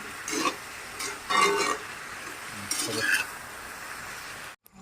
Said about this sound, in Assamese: গোটেইখিনি ভালদৰে এতিয়া মানে মিলাই আছোঁ